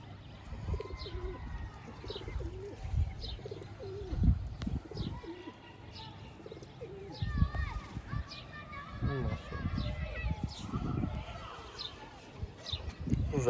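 Pigeons in a coop in Sialkot give repeated low, throaty coos close by, with soft wing flutters and chirps mixed in under a voice.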